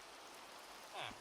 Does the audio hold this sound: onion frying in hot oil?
no